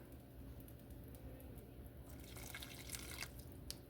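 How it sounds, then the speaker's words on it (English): Starchy pasta water is poured into a pan of lemon and burrata ravioli, making a soft, quiet splashing trickle that grows louder partway through and runs alone with no talk. "toss in a little bit of this pasta water"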